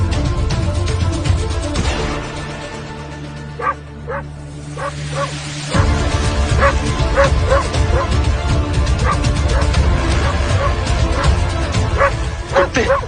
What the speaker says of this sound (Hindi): पता नहीं वो कुत्ते कहाँ से आए,